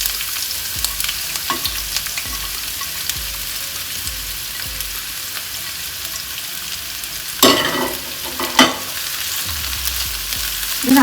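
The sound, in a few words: chopped onions frying in oil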